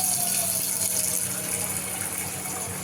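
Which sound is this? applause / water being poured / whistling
water being poured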